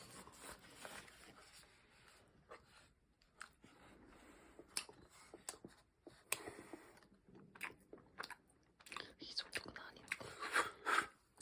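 Close, quiet crunching and chewing sounds come in irregular bursts as someone bites into a crisp-shelled, soft-centered dacquoise, with faint whispers between bites.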